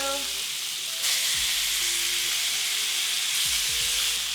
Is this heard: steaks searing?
yes